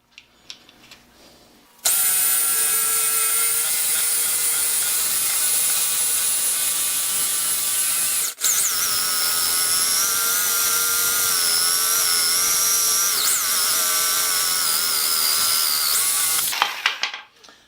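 A Skil 4395 corded jigsaw cuts through a very hard piece of wood, running as a loud, steady whining buzz for about fifteen seconds with one brief dip partway through before it stops.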